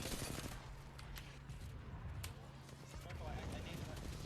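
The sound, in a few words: gunfire in a first-person shooter video game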